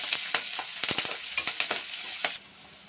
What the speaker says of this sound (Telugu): ఇందులోనే కరివేపాకు కూడా వేసుకోవాలి, ఒక 2 రెమ్మలు వేసి ఫ్రై చేసుకోవాలి